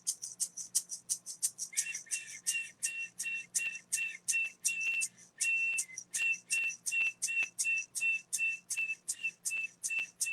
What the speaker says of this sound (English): just whistle in a really sing-song way